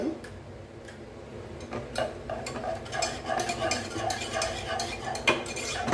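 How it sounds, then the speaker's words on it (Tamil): A spoon works thick, sticky oats halwa around a pan, giving close, steady scraping and clicking strokes over a continuous soft cooking hiss that grows slightly busier toward the end. "இப்படியே கிளறி கொடுத்துட்ருக்கலாம்"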